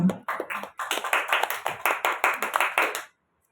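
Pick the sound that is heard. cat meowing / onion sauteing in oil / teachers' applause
teachers' applause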